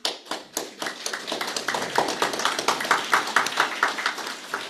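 Audience clapping at the close of a Buddhist sutra lecture session, a steady patter of many hands in the room, fairly close, with no talking over it.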